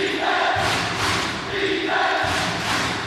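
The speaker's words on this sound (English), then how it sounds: "Crowd getting into it now." A basketball arena crowd cheers during a Taipei Fubon Braves vs Formosa Taishin Dreamers game, a loud, dense roar that swells in waves, with thuds and a commentator talking over it.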